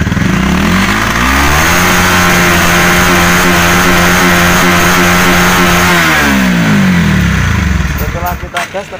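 A Honda CB150R motorcycle engine, one with an LED headlamp and a misfire at low and high RPM, revs up and holds a high, steady note for several seconds, then drops back toward idle, loud and close, with a voice talking briefly over it.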